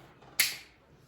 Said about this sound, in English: you could snap your fingers